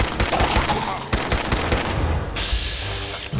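Dense, loud machine-gun fire in Fallout 4, with close rapid bursts that break off briefly and then resume before giving way to a steady mechanical whine.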